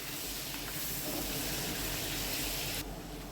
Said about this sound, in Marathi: त्यामध्ये लसूण, आलं आणि मिरचीची पेस्ट करून टाकली आहे. परतून घेऊया आपण.